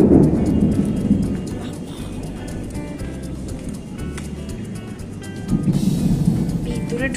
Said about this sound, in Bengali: আমার ভীষণ ভয় করে এই বিদ্যুতের আওয়াজে